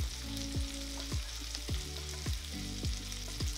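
Wild duck breast (magret) seasoned with Espelette pepper frying in a pan, a constant close sizzle broken by regular low thumps and tonal clinks recurring about every half second, with no talking.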